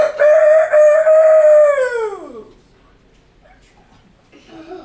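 A rooster in a farmyard poultry yard crows one long, loud, close call that drops in pitch at the end, followed by a quiet stretch and faint fowl sounds.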